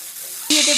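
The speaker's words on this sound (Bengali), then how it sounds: "তেল গরম করে দিয়ে দিচ্ছি কেটে রাখা উচ্ছে।" Cut bitter gourd hits hot mustard oil with a sudden loud hiss that keeps up as a close, crackling sizzle through the rest of the moment.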